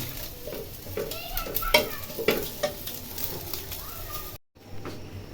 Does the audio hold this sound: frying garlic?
yes